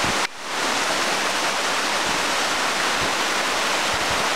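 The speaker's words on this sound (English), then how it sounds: "All right, so we have more cascade." Continuous broadband roar of a cascading waterfall along a hiking trail, steady and close, with a brief dip near the start before the rushing water fills everything again.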